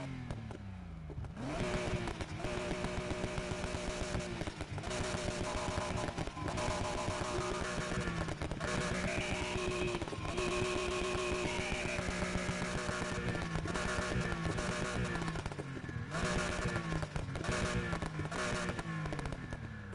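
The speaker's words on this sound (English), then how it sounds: "Let's hear that flat 6. Probably sounds a lot better than the i4." Flat-six car engine in the Need for Speed Heat video game, revving loudly and repeatedly with rising and falling pitch, sharp throttle blips and gaps between pulls, alone without talk.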